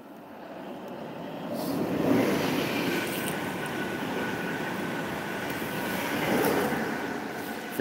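Steady broadband rumble of a train, continuous and fairly loud, swelling slightly twice, with no voices.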